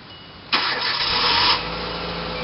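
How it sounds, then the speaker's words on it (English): A car engine cranks and catches with a sudden burst of starter noise lasting about a second, then settles into a low steady idle, close by and with no talking. "So even if I turn the car on,"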